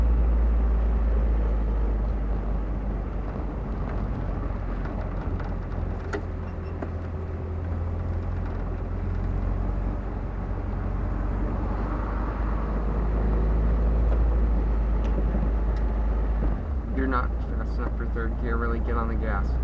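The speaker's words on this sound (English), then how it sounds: "Put the gas pedal all the way down." A car accelerating with the gas pedal floored during a clutch-control driving lesson, its engine droning loud and steady from inside the cabin, rising in places, with people talking over it.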